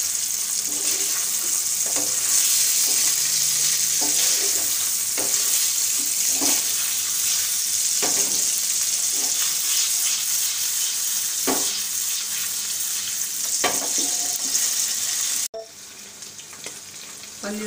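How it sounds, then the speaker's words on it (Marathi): Paneer cubes fry in hot oil in a pan, with a steady loud sizzle and scattered clinks and scrapes of a spatula stirring, followed by a sudden quieter stretch at the end. "पनीर सुद्धा 1 ते 2 मिनिटच फ्राय करून घ्यायचं"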